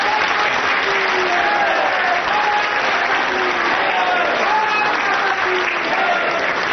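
A television studio audience applauds in a steady, dense wash of clapping that holds at full strength throughout, with a faint tonal murmur threaded beneath.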